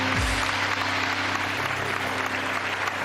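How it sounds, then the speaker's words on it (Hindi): A studio audience on a Pakistani television game show breaks into loud, continuous applause, a dense wall of clapping with a low musical hum underneath. "जिनके लिए तालियां बजानी चाहिए, नसीरुद्दीन शाह साहब,"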